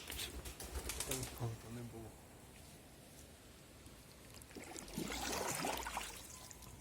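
Bursts of pigeon wings flap close by near a bridge over the Ikva River, with water trickling steadily in the background.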